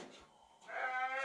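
A young goat, about nine months old and weighing roughly 27 kg, gives one clear, nasal bleat at a livestock market after a brief quieter moment, sounding fairly close.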